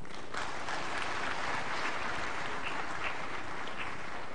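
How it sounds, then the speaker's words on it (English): A crowd applauds steadily at a national energy conservation awards ceremony, dense continuous clapping that fills the whole stretch at an even, fairly loud level. "a round of applause for the esteemed dignitaries present on the dais"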